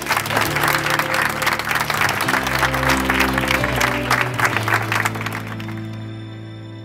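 Wedding guests applaud the bride's parents in a steady, dense burst of clapping that fills the room, with a low hum of music or voices beneath, fading slightly toward the end.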